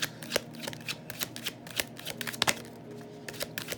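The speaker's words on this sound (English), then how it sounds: "Let's pull 4 cards to start" Tarot cards shuffled by hand for a reading, a quick close riffle of papery flicks and slaps in uneven bursts, fairly quiet and alone.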